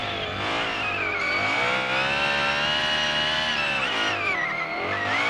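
A racing video game car holds a loud, steady engine roar at around 100 km/h, strong harmonics rising and falling slightly as revs shift, continuous and dominant throughout with no voices.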